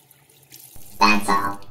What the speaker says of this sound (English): Rinse your hands.